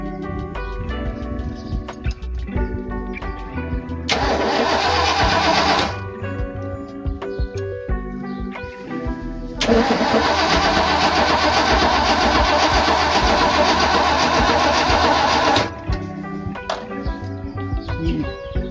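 A 1986 Ford F250 truck engine cranks and fires, with two long, loud bursts of starter and engine roar between quieter stretches of idling, close to the microphone.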